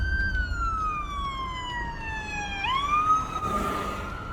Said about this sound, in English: listen for those sirens